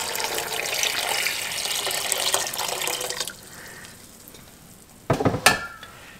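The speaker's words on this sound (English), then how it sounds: "And then I've got some water I'm going to cover them with." Water poured into a pot of blackberries and sugar, a loud rushing pour for about three seconds, then quiet, followed by a couple of short clattering knocks.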